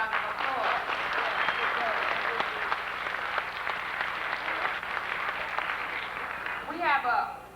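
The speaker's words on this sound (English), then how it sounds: "Please give yourselves a round of applause" A large audience applauds steadily at an evening Black Solidarity Day program in 1990, a dense wash of clapping filling the whole stretch, with a few voices rising near the end.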